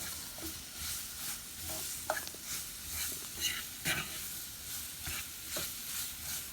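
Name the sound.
stirring onion gravy cooking in a pan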